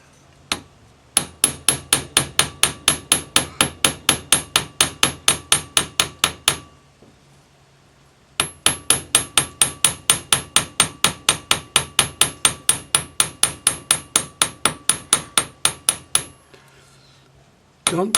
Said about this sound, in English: I'm just going to use one of the Fret's textured hammers.